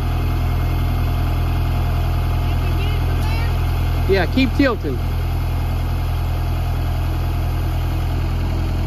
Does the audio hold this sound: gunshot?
no